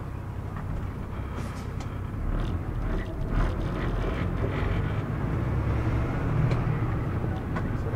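A truck engine labours in low gear climbing a hill on a country road in Georgia, a heavy low rumble and drone heard from inside the cab, steady and fairly loud with rattles over it.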